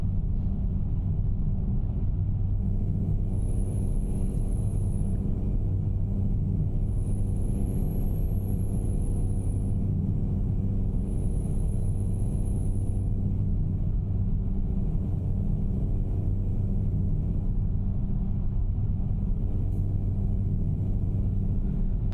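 A DAF XG heavy truck with a 1,000-horsepower engine and 16-speed transmission drives steadily in a truck-driving video game, a continuous low engine rumble with three brief high whistling tones early on.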